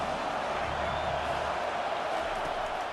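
A home crowd roars steadily in a College Football 25 stadium during a UGA versus FSU game, a dense, continuous wash of cheering noise at constant loudness with no clear breaks.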